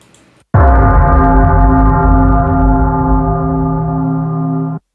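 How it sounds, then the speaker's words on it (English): A single loud, high-passed bell strike that rings out with a long sustained tone and rich overtones, with a low thump at the start and a lingering reverb tail. "I really want to actually put a real bell in there just to make it more raw"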